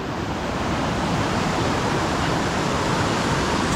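River water rushes steadily past a river crossing on a hike at Dingalan, a loud, unbroken broadband flow with no voices over it.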